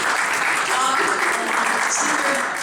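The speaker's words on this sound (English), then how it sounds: "please have a round of applause for these guitar stylings of John Roesemann" A crowd at a library holiday show applauds a guitarist, a loud, continuous roar of clapping that stays level throughout, with faint voices mixed in underneath.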